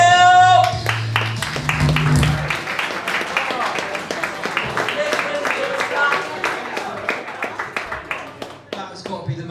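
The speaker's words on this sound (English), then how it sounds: "That has got to be the most apathetic round of applause ever" A comedy-night audience in Gloucester gives the host a thin, scattered round of applause: a steady patter of claps lasting several seconds that slowly thins out, with some voices mixed in.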